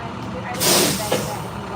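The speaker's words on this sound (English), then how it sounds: "sorry, school bus." A school bus passes close by on a street, its air brakes letting out a loud hiss with a short sharp release near the middle, over steady traffic rumble.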